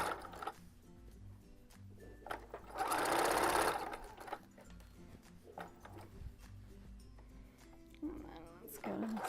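A sewing machine stitches color block pants in one steady, loud run of about a second and a half, with quieter mechanical clicks and handling noise before and after.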